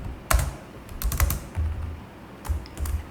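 Typing on a computer keyboard, irregular clusters of soft key clicks and taps close by, with short pauses between bursts.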